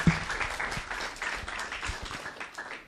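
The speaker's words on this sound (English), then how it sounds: "a big round of applause for Bhuta Bhavana, please." An audience claps in sustained applause after a talk at a spiritual gathering, a dense rain of many hands at moderate level from across the room, fading slightly toward the end.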